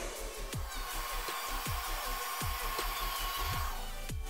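A heat tool blows hot air onto the spikes of a styled cosplay wig, a steady loud whooshing hum throughout, broken by several sharp clicks and thumps from handling nearby.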